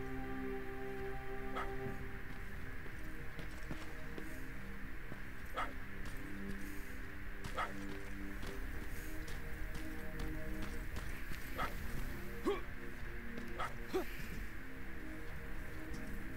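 A dog barks in Terminator: Resistance: faint, quiet barks repeat every couple of seconds over a steady, rain-like background hiss.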